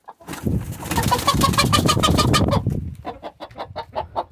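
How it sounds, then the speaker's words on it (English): A hen close by gives a loud, ruffled broody growl, then settles into a run of short, rhythmic clucks. "that is the I'm broody noise"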